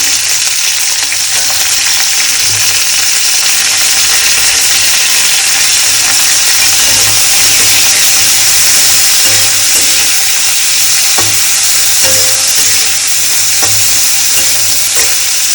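Cabbage stir-fries in a pan with a loud, continuous sizzle close up, broken by scraping stirs at irregular intervals.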